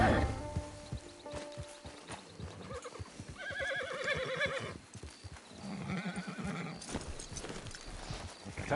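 A horse in Red Dead Redemption clip-clops steadily at walking pace and lets out two drawn-out neighs, heard close over quiet outdoor ambience.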